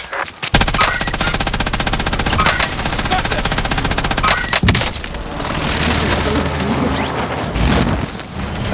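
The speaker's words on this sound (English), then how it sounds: "Target's painted for airstrike." Loud gunfire and blasts in an online shooter video game after an airstrike is called in, rapid machine-gun bursts rattling continuously with heavy booming impacts, dense and close throughout.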